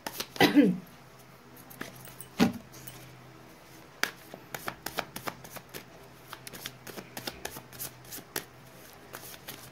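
Tarot cards riffle and slap close by as they are shuffled, then come a few louder flicks and a scattered series of soft snaps and taps as cards are drawn and laid down.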